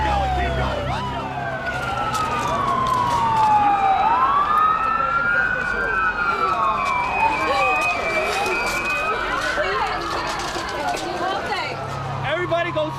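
Several emergency sirens, including an ambulance's, wail and sweep up and down at once, loud and nearby, with city rumble and voices under them during an evacuation.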